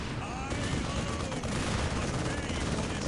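Dense gunfire from a Dawn of War battle between Imperial Guard and Black Templar armies, with continuous overlapping rifle and machine-gun bursts that stay loud throughout under a commentator's voice.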